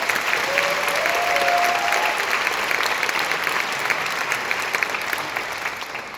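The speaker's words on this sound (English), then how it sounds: "Let's give her a round of applause." An audience at Ignite Seattle in Town Hall applauds a speaker, steady crowd clapping that carries on throughout and fades slightly toward the end, with a faint voice briefly audible.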